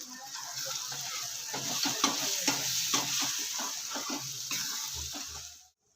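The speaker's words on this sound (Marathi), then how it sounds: "आपले मसाले तेलामध्ये चांगले परतून झालेले आहेत।" Spices sautéing in hot oil for paneer bhurji give a steady, close sizzle with stirring scrapes and clinks running throughout, ending abruptly.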